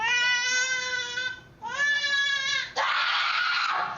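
A baby cries loudly in a nanny cam recording, wailing in long strained bursts with a brief catch between them, ending in a harsher scream.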